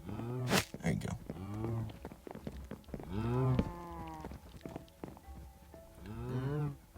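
Repeated cow moos from the Minecraft video game, several drawn-out lowing calls in a row, fairly loud and close, with brief gaps between them.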